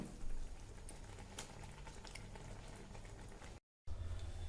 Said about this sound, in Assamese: এতিয়া এইখিনি এখন চালনীৰে চেকি উলিয়াই ল'ম